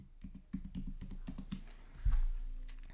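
Typing on a computer keyboard while setting text in design software, a quick run of close, crisp key clicks that bunch together and then give way to a single heavier thump.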